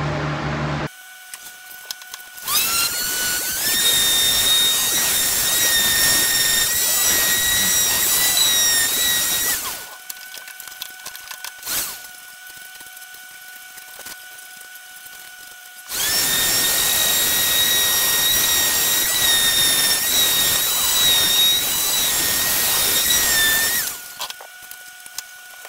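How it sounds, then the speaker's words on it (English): A power sander works on a wooden watch display case, two long loud steady whining runs of about seven seconds each separated by a quieter pause, close and alone. "Now we're going to sand the bottom and top."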